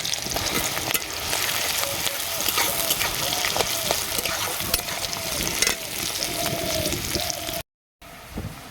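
Chopped onion dropped into a pan with small shrimp, frying in a loud, continuous sizzle with stirring scrapes and clatter throughout, broken by a brief cut near the end.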